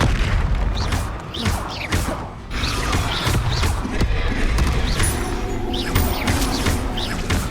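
Repeated booming explosions from the Confringo spell in Hogwarts Legacy, loud thuds and crashes landing in quick succession amid combat noise and a spoken incantation.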